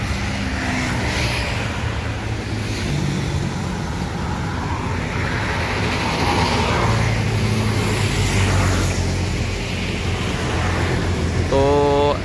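Steady roadway traffic noise with vehicles passing continuously at close range, loud and unbroken throughout, with a brief horn-like tone near the end.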